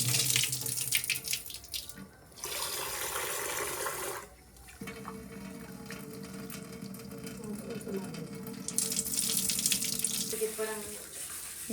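Soaked grains for dosa are washed in a kitchen sink under a running tap, water splashing and swishing steadily and close by, with a brief pause and louder rushing toward the end.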